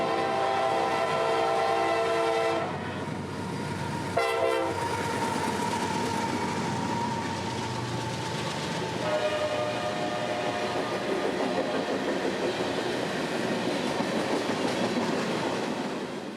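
Long freight train passing on the CSX S Line in central Florida, led by an AC44 locomotive pulling a freight block and a long string of autoracks; steady loud rolling rumble with wheel clatter, a brief horn-like tone midway, no talk.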